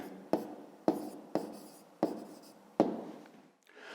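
Numbers being written by hand with a pen on paper for a fifth-grade maths exercise, five sharp separate strokes spaced roughly half a second apart, each fading quickly, close and alone with no talk.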